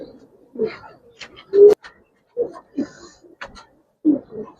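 Giribaz and coloured pigeons cooing close by in short, soft, throaty bursts separated by brief pauses.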